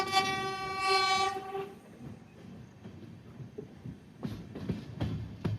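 The Mook Mati Express pulls out of Balaghat Junction with a loud, sustained train horn blast at the start, followed by the low rumble and intermittent clacking of the moving coaches.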